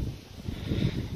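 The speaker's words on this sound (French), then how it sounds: "il y a un petit peu de vent" Low rumbling buffeting of light wind against a microphone outdoors during a metal detecting outing, steady and muffled with no other clear sounds.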